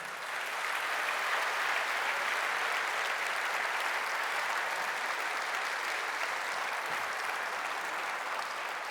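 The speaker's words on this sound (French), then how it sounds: "je vous demande une nouvelle fois de les applaudir" An audience applauds event staff at a May Day political rally, a steady sustained wash of many hands clapping that carries evenly from start to finish without speech.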